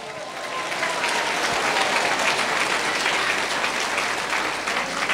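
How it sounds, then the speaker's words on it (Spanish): Congregation in a church applauding loudly and steadily, a dense wash of clapping hands that fills the whole stretch with no break. "fuerte aplauso"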